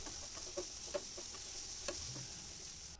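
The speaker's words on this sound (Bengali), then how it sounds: "এবার এটা একটু নাড়াচাড়া করব" Ridge gourd with turmeric and salt frying in a pan, a steady faint sizzle broken by a few soft clicks of a spatula stirring, no voices.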